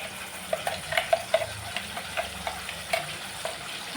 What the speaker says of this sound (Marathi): आणि मसाला छान आपण भाजून घेणार आहोत